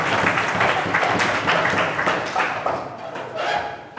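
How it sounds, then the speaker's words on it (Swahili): An audience at a youth-wing political rally claps in a dense burst of applause, moderately loud and steady, slowly thinning toward the end. "mpigieni makofi ya kutosha"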